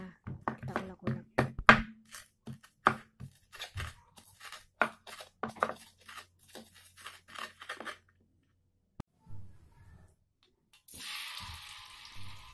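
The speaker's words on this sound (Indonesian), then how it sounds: "Oke, saya iris-iris kemudian nanti saya ulek ya teman-teman." Ingredients for a stir-fry of tofu and quail eggs are sliced with a knife, giving a run of sharp, irregular chopping taps, then a short pause and a steady gritty grinding in a stone mortar, close and fairly loud, with no talking.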